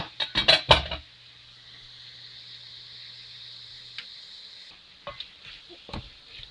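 Shredded cabbage sautéing in a pan for Ghanaian fried fish pie filling, with a burst of stirring and clattering up front, then a steady soft sizzle and a few scattered utensil knocks.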